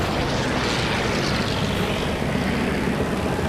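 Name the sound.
P-51 Mustang propeller aircraft engine in flight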